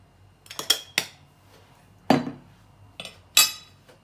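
A spoon clinks against a bowl while fish marinade spices are mixed, giving a handful of sharp, close metallic taps spaced irregularly over a quiet background, with no talk.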